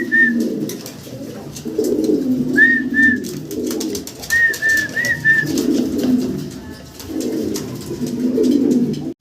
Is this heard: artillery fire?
no